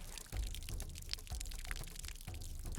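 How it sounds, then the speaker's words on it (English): Water gushes and splashes steadily from a leaking pipe outdoors in a remote community, a continuous rushing pour with small pulses and drips, fairly close, with no talk. "For big water leak."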